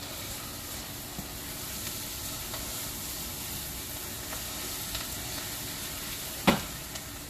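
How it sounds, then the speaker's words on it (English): Chicken pot pie filling sizzles steadily in a pan while being stirred, a soft continuous hiss with one brief scrape of the spoon near the end, no talking. "Give this a good stir."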